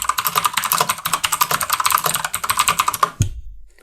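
Rapid computer keyboard typing clatters close and loud in a dense, uneven rhythm of keystrokes for about three seconds, ending with a final thump and silence.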